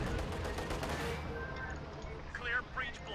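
Tank main gun and battlefield gunfire in Company of Heroes 2, a dense loud burst of firing and explosions at the start that fades into quieter chirps, with game voices speaking over it.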